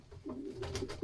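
Stock pigeons in a breeding loft give a low, soft cooing that runs through the whole short moment, close by, with a faint rustle of other birds behind it and no talk.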